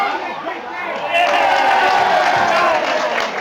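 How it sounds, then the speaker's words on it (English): A rugby league crowd at an Oldham versus Bradford match lets out ironic cheers, a broad roar that swells after a quiet moment and holds loud and near to the end, with scattered shouting and clapping mixed in. "Ironic cheers then from the crowd here"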